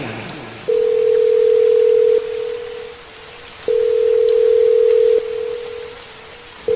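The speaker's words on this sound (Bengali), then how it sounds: "প্রতিবারই ফোনটা বেজে বেজে কেটে গেল" A phone call rings out unanswered, a steady ringback tone sounding in long repeated bursts with short pauses between, alongside faint periodic high beeps.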